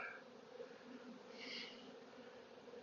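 A honeybee swarm buzzes in a faint, steady drone that holds the whole time, with a brief brighter swell of buzzing near the middle.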